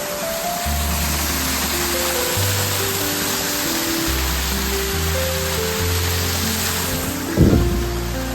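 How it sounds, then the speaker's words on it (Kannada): A small roadside waterfall on the route to Kyathanamakki in Karnataka pours with a steady, dense rushing hiss throughout, heard under tonal background music. "ಆ ರೂಟಲ್ಲಿ ಒಂದು ಚಿಕ್ಕದಾಗಿ ರೋಡ್ ಸೈಡಲ್ಲಿ ಒಂದು ಚಿಕ್ಕದಾದ ಒಂದು ಫಾಲ್ಸ್."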